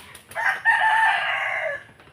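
A small backyard gamecock with an injured right leg crows once, loud and close, a long drawn-out call after a couple of brief clucks, with no talk over it.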